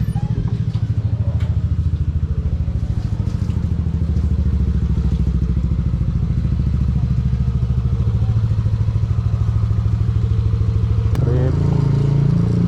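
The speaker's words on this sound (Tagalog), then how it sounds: "Yung motor ko nakasindi na," A motorcycle engine runs at a steady, close, loud idle with a rapid throbbing pulse and some clatter, then revs up sharply near the end.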